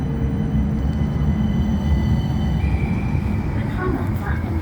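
A tram at the Edgbaston Village stop gives a steady, loud low rumble with a thin tonal whine rising near the end, while a voice is faintly heard over it.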